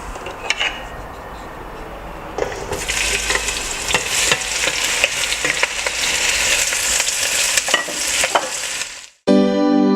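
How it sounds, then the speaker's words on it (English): Chopped onions and salted fish fry in olive oil in a pan, giving a steady, close sizzle with crackles and a few stirring clicks, then a brief pause and a short voice at the very end. "Onions and the salted fish to fry for about 2 to 3 minutes"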